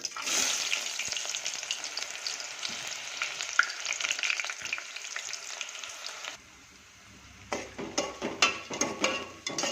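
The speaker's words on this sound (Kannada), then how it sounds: "ಈಗ ಎಣ್ಣೆಗೆ ಹಾಕ್ತೀನಿ ಈಗ ಈರುಳ್ಳಿ ಹಾಕೋತೀನಿ" Sliced onion hits hot oil in a pan with a loud, steady sizzle that runs for several seconds, then drops away to a quieter hiss broken by a series of scraping stirs.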